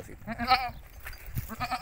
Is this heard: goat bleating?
yes